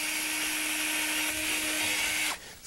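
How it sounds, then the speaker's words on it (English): A power drill pre-drills screw holes in wood for an easel, a steady, close whine running for about two seconds before cutting off abruptly. "we're going to pre-drill these holes not only to prevent the wood from splitting when the screw goes through"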